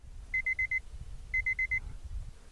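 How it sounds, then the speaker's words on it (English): Electronic voltage alarm from a Turnigy TGY-i10 RC transmitter: two bursts of four short, clear, high beeps each, evenly spaced and fairly close, over low background rumble. "Second beep."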